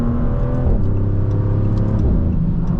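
A 2025 Maserati GranCabrio Trofeo with a twin-turbo Nettuno V6 pulls hard up a highway on-ramp. The engine note is loud and close, rising through a gear and climbing again under strong acceleration.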